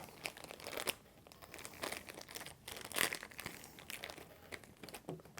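A plastic bag of Nerf Modulus foam darts is pulled open by hand, giving close, irregular crinkling and rustling bursts with a few sharper tearing crackles, heard with no talk.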